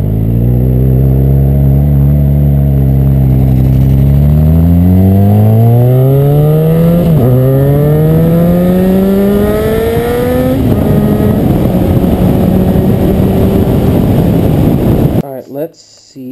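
A project motorcycle's engine revs steadily and loudly, its pitch climbing through several rising sweeps as the bike pulls away, then cutting off abruptly near the end.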